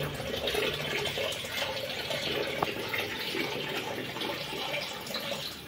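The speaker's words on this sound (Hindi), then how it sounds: "नीचे नीचे साइफन करने से पूरा नीचे का गंदगी निकल जाएगा" Dirty water is siphoned through a pipe from the bottom of a homemade fish breeding tank for widow tetras, giving a steady, close, continuous watery rush and trickle with no talking.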